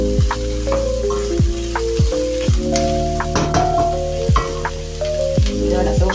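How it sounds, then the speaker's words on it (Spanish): Meat sizzles and sears in a hot pan for a Spanish gazpacho manchego, a steady loud frying hiss broken by the scrape and knock of stirring, with no talk. "Lo doramos bien, lo sellamos para que no se nos suelten nuestros huesos."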